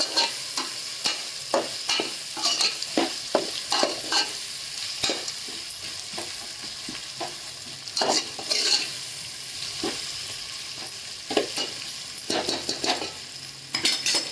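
Sliced onion and small chopped tomatoes sauté in a pan for prawn rice, a soft continuous sizzle broken by regular spoon strokes and scrapes against the metal, close and without talking.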